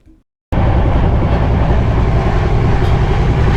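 Darjeeling Mail passenger train running, a loud, close, continuous rumble with rattling that starts abruptly after a brief quiet moment and holds steady throughout; no clear whistle stands out.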